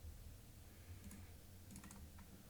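Soft, quick keystrokes on a PC keyboard come in a few light clusters of clicks, quiet and close over a low background hum, with no talk.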